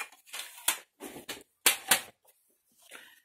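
Crisp snipping and rustling bursts, like scissors cutting through paper, come in irregular close clusters with short gaps between them.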